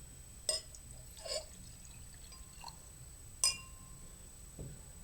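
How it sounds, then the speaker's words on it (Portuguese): Water pours into a glass indoors, brief faint splashes and a couple of soft clinks spread across a quiet stretch. "vou abastecer aqui a nossa água sergiana"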